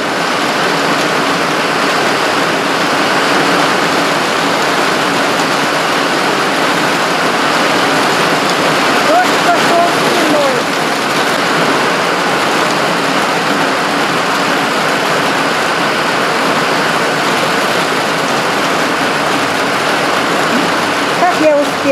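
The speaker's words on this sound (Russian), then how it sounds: "Это не дождик, это целый ливень." Heavy summer downpour outdoors, a dense, steady roar of rain that stays loud and unbroken throughout, with no pauses or distinct drops standing out.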